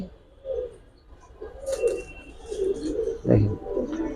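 Soft, low coos of Giribaz and high-flyer pigeons repeat several times at close range, with a faint rustle between calls.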